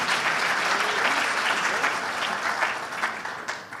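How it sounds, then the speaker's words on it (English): An audience at an awards conference claps in a dense, sustained round of applause that stays even and full before thinning slightly at the end. "one more round of applause"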